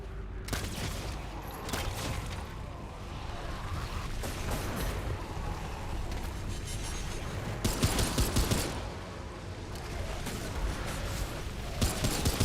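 Repeated gunfire from a Remnant 2 firefight, with bursts of shots cracking over a dense, continuous game soundscape, growing heavier and sharper toward the end.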